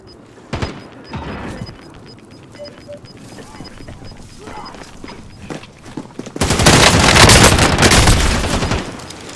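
Gunfire in Call of Duty, starting as scattered sharp shots with a faint voice murmuring, then swelling into a loud, dense continuous barrage toward the end.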